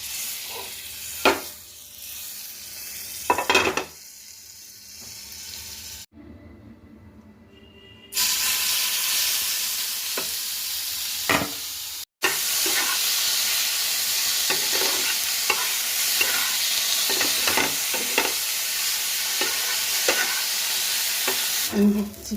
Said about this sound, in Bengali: এখানে দেবো বাটার দিয়ে চিকেনগুলো হালকা করে ভেজে নেব